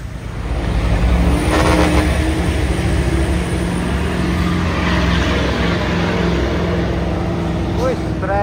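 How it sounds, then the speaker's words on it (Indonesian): A Mitsubishi Fuso Super Great trailer truck overtakes on an Indonesian road, its diesel engine roaring loud and steady throughout, with traffic noise around and a voice talking over it. "Wih, trailer Super Grid menyalip dari kiri. Wih, suaranya bosku luar biasa."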